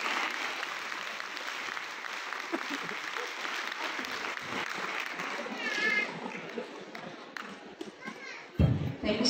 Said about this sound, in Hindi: अपने लिए तालियां बजा दीजिए।